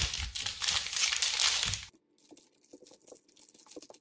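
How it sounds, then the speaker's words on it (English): A plastic freezer bag crinkles loudly and continuously as corn cobs are pushed into it, then the rustling stops abruptly and gives way to faint, scattered handling noises. "Now it's as simple as putting our corn cobs in the bag and sealing the other end."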